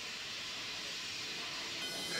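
Corsican railway steam trains start off in the early morning, giving a steady, loud hiss of escaping steam with a continuous rumble beneath it and no talk.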